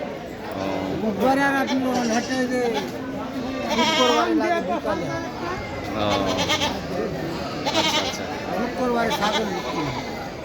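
Many goats bleat repeatedly and overlap at a busy rural goat market, close and loud, amid a crowd's chatter and nearby talking voices.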